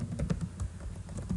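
Keys clatter in quick, irregular bursts on a computer keyboard while HTML code is typed, close and steady throughout with no voices.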